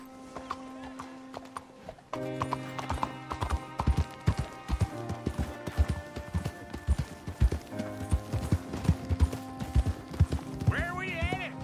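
Hooves clip-clop at a steady trot as a horse is ridden in the Western video game Red Dead Redemption 2, close and rhythmic over a background music tone, ending with a brief whinny.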